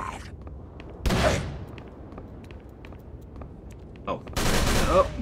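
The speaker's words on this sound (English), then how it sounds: "Machine gun?" Bursts of machine gun fire in Call of Cthulhu: Dark Corners of the Earth, two loud broadband volleys about a second long separated by quieter ambient game noise with faint scattered clicks.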